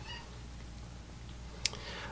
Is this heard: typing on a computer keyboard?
no